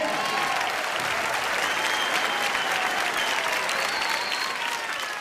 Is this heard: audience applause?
yes